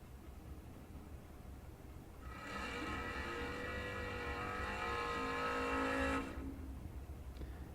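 A door-car drag racer, the Pontiac, makes its run at the Moser Engineering Door Car Duel, a loud engine roar that rises out of track ambience, holds for about four seconds, then cuts off abruptly.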